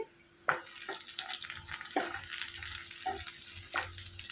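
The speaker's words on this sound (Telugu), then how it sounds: "కొద్దిగా కరివేపాకు వేసుకొని వేయించుకోవాలి ఒక రెండు వెల్లుల్లిపాయలు చెదగొట్టి వేసుకుంటే బాగుంటుంది" Curry leaves and crushed garlic fry in oil for a potato curry, a quiet close sizzle punctuated by a few distinct spoon scrapes and pops about once a second.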